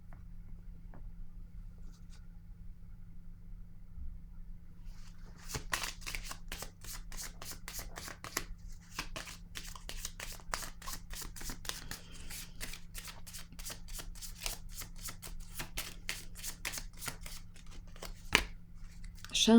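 Tarot-style cards being shuffled and laid down one by one for a card reading, a long run of quick crisp flicks and snaps close up, with a steady low hum underneath and no talking.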